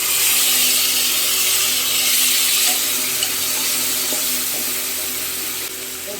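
Chopped tomatoes with ginger garlic paste sizzle steadily in a hot pan, a close, even frying hiss that eases slightly toward the end, with no one talking.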